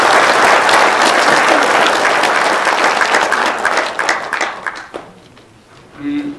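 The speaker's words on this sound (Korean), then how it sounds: "한 번 더 박수를 보내주십니다." Applause from a large audience at a Korean political lecture, loud and sustained, thinning into scattered claps before dying away at the end, when a brief voice is heard.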